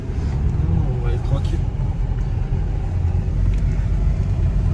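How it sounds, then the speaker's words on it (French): A 2020 Peugeot 3008 SUV on a road trip gives a steady, loud engine and road rumble from inside the cabin while people talk over it; no sharp surge of acceleration stands out. "On va arracher la voiture tout de suite"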